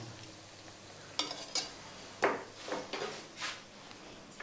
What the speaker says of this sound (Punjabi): ਇਹ ਪਿਆਜ਼ ਤਿਆਰ ਹੋ ਗਏ ਹੁਣ ਇਹਦੇ ਵਿੱਚ ਪਾਵਾਂਗੇ ਅਸੀਂ ਜੀਰਾ